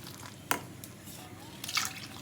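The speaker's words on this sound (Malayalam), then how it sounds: "മൈദയിലേക്ക് കുറച്ച് വെള്ളം ഒഴിക്കുക" Water is poured into maida flour in a bowl for dosa batter, heard as two brief splashy trickles against a quiet room.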